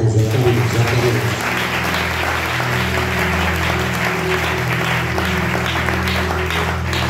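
Congregation at a church service clapping and cheering loudly, dense continuous applause that starts strong and holds steady, with a few voices mixed into the crowd noise.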